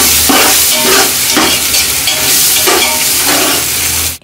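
A spoon stirs ginger-garlic paste frying in hot oil in a pot for prawn biryani. The sizzle is loud and close, with rhythmic scraping surges about once a second and a steady hiss, then a sudden stop. Nobody speaks.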